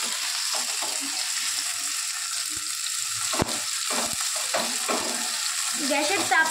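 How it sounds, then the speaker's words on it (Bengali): Tomatoes fry in a pan for Maggi masala, a soft continuous sizzle broken by scraping stirs and a few sharp knocks of a spoon against the pan. "টমেটোগুলোকে এবার ভাজা ভাজা করে নিতে হবে ভালো করে।"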